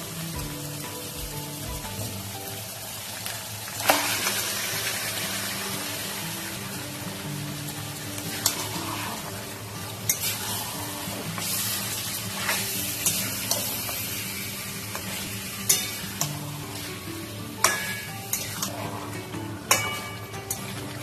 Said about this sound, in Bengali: এবার আমি এর মধ্যে ম্যারিনেট করা মাটনটা দিয়ে দেবো।